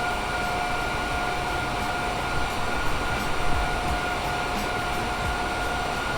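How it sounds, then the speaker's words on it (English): Roosevelt Island aerial tram riding from Manhattan, a steady loud rumbling hum with a constant whine, continuous and unbroken with no talking. "a cheap option is to take the tram to Roosevelt Island from Manhattan"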